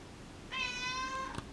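A single drawn-out kitten meow, clear and fairly close, rising then holding steady before ending with a faint thump.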